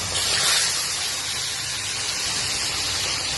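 Tilapia pieces sizzling in hot oil in a Bengali kitchen pan, a steady loud broadband spray of frying that swells slightly early on and then holds even throughout, with no talk.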